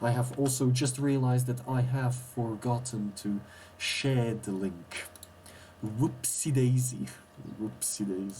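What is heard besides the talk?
No distinct noise like a dog, phone or traffic.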